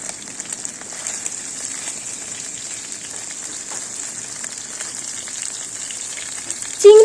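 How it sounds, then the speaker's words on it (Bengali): Prawns frying in oil in a pan give a steady, close, crackling sizzle that runs throughout, with a brief louder clatter at the very end. "তো দেখুন চিংড়িটা কিন্তু ভাজা প্রায় হয়ে এসেছে"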